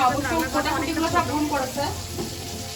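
Food sizzles and fries in a pan in a home kitchen during Rakhi Purnima cooking, a steady hissing crackle running throughout while a person talks over it.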